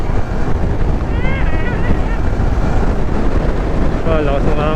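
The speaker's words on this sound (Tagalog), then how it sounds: "Oh, lakas ng hangin." Strong wind buffets the microphone during a group motorcycle ride in a steady broadband roar, with voices and shouts partly heard underneath.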